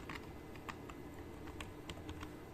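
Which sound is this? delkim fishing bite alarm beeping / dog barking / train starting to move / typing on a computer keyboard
typing on a computer keyboard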